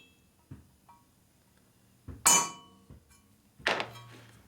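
A few sharp metallic hammer strikes drive a pin into a bushing in a 1961 Harley-Davidson Sportster XLCH transmission, isolated close knocks with light taps between them in a quiet shop.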